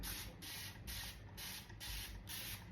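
Six quick hissing bursts from a spray bottle misting water onto a wig, in a steady rhythm, close and fairly quiet, with no talking.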